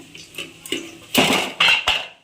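Metal pots and pans clatter and clang in a kitchen where a cook is frying fish and chilli chicken, a few sharp close knocks and scrapes, loudest in the last second.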